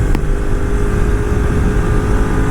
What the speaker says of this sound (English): Ducati's got some of these motors just rev so nicely.